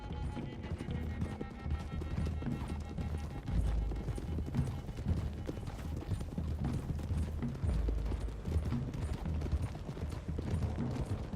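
Horses' hooves clip-clop steadily in the Western video game Red Dead Redemption 2, a continuous gallop-like patter of several horses riding together over a low rumbling game soundscape.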